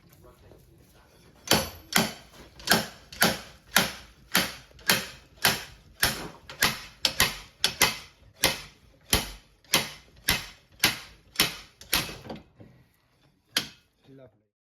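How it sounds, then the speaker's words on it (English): A slide hammer bolted to the wheel studs of a Sunbeam Alpine yanks at the half shaft and bearing, giving about twenty sharp metallic knocks in a steady rhythm, close and loud, before stopping. "A slide hammer is attached to the wheel studs and the half shaft and bearing are pulled out."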